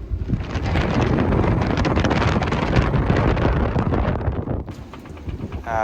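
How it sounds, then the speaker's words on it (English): Strong evening wind buffets a sailboat anchored in a narrow bay off Albania, a loud continuous roar of gusts battering the microphone, easing briefly near the end before rising again. "The wind died down earlier this afternoon, but just as sun has set, it has come back full force"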